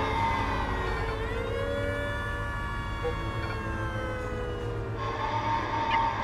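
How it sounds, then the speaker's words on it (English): A fire engine siren wails steadily and loudly in the prison management game Prison Architect during a full-scale prisoner riot, its rising and falling tones continuous throughout with no talking. "Still got the siren going off."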